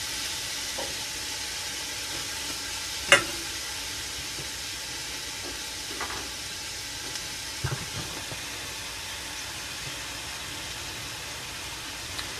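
A Teflon-coated whisk works Alfredo sauce in a hot pan, under a continuous soft hiss and sizzle broken by a few scattered taps and scrapes, one sharper clink near the start.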